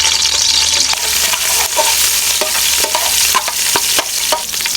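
Loud, close sizzling as garlic and ginger fry in hot ghee, with occasional scraping stirs of a spoon in the pan.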